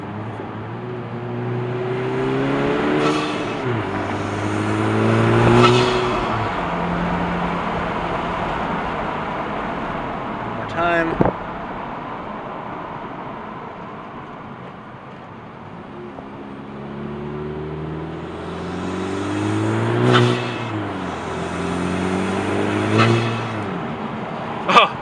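A 10th-generation Honda Civic Si engine fitted with a PRL Cobra cold air intake revs up twice, heard inside the cabin, with rising, sweeping intake roar, settling between pulls; a brief voice speaks in the quiet middle stretch.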